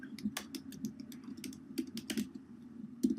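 Fingers type on a computer keyboard in an irregular run of soft, close key clicks, with brief pauses between small bursts of keystrokes and no talking.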